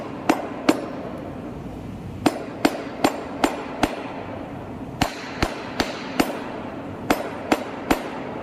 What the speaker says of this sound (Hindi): ये स्पिंडल डालने के लिए रबड़ शीट में छेद कर रहे हैं।